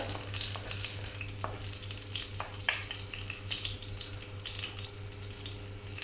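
Mustard seeds fry in hot oil for a fish curry, giving a close, steady sizzle dotted with sharp pops and crackles, with a low hum running underneath.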